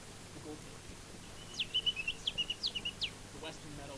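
A person imitates a goldfinch call with a quick run of high, twittering chirps lasting about a second and a half, faint against a quiet backdrop.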